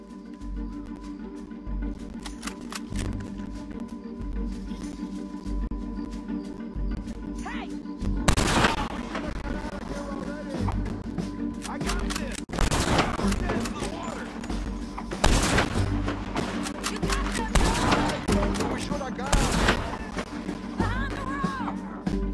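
Gunfire in the Western video game Red Dead Redemption 2: repeated shots and bursts, with several loud sharp blasts over a dense, continuous mix of game score and ambient noise.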